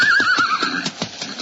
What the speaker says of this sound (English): this horse of mine sure acts funny